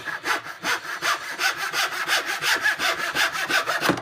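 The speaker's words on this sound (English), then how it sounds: "I can get a really accurate cut, and just cut as close to the line as, like, just cut off the corner" A fine-toothed hand saw cuts the corner off a wooden cutting board: a fast, even series of rasping back-and-forth strokes, close and loud, with no voices.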